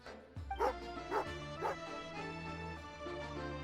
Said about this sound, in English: Good doggy! Good doggy!